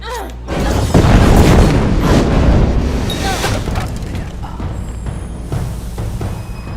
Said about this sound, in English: What a boggart exploded.